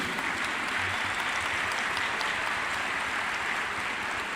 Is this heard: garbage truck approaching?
no